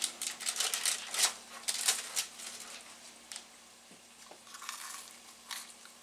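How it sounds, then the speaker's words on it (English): Crisp bites into homemade low carb cheese puffs, a burst of several crunchy snaps near the mic in the first couple of seconds, then quieter intermittent chewing crunches and a few more crackles toward the end, with no talking. "Got that crunch."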